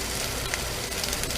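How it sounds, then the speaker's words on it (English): White onions hitting Portuguese sausage already crisping in a hot pan with a little garlic, a steady close sizzle with faint stirring clicks and no talking. "So my Portuguese sausage is getting pretty crispy, so it's time to add in my onions."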